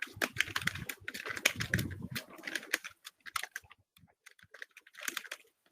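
Fingers type quickly on a computer keyboard, a close, dry flurry of key clicks that thins into scattered, sparser taps with short pauses, quiet and without talk.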